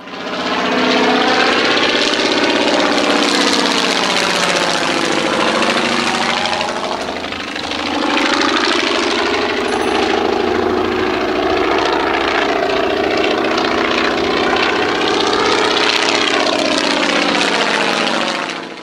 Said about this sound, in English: At any speed, the radial engine produces a constant thumping beat.